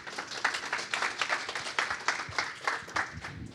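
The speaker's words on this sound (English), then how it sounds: "So if you can just give them a round of applause." An audience at a talk on increasing recycling with data gives the speakers a round of applause. The clapping is dense and steady, filling the room for a few seconds with little other sound.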